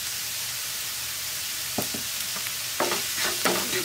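Two finely chopped onions frying with salt in a hot pan give a steady, fairly loud sizzle, joined after a couple of seconds by intermittent scraping and stirring knocks that grow busier toward the end.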